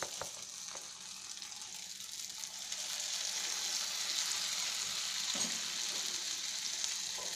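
Small drops of punugu batter deep fry in hot oil with a continuous bubbling sizzle, close and fairly loud. A few soft clicks from the spoon or pan punctuate it.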